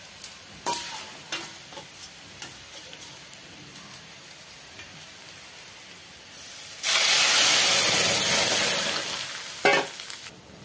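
Dal dropped into hot oil in a home kitchen in Odisha, bursting into a loud, sustained sizzle of frying after quieter stirring clinks, close and alone, fading slightly toward the end.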